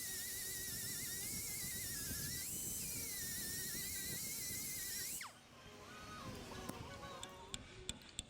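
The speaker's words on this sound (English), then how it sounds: "there was a spot weld that needed grinding" A small angle grinder grinds a spot weld on a Jeep Renegade door shell, giving a steady, high, wavering whine for about five seconds. The whine cuts off and is followed by faint metallic ticks and clinks.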